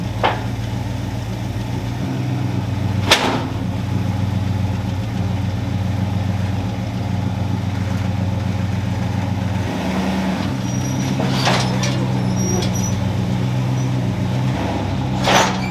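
A 1965 Ford Fairlane 500 Sports Coupe engine rumbles at low speed while the car is driven up onto a trailer, a steady mid-pitched idle with a few sharp clanks and hisses along the way.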